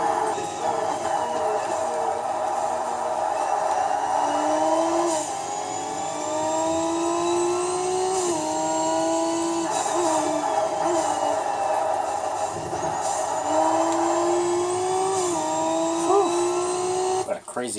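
A damaged Ferrari engine revving in the Forza racing game, a loud, steady high whine with pitch rising and dipping through repeated revs, with wind noise and a voice talking over it.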